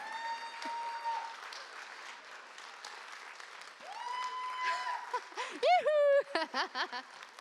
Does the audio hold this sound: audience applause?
yes